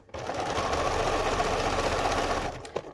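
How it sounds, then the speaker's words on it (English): A sewing machine overlocking the fabric edge of a zipped cushion cover with pompom trim runs in one steady, fast, close whir for over two seconds, then stops with a brief click. "you somewhat just kind of overlock the edge a little bit at the same time"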